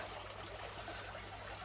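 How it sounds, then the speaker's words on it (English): Water trickles and dribbles steadily as an aquarium sponge is squeezed, a soft continuous liquid stream heard close and alone. "squeeze the water out of that"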